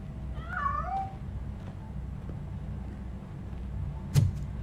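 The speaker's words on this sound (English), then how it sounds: "That cat must be hiding inside." A cat in the RoboCop video game gives one clear rising-falling meow early on over a low steady rumble, followed by quieter background noise and a sharp brief knock near the end.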